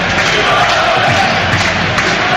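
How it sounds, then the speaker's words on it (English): Tranmere fans cheer and chant at a football match against Tottenham, a dense, steady roar of crowd noise filling the whole clip with no pauses, loud and distant across the stadium. "their fans that you can hear cheering them home for the last few minutes"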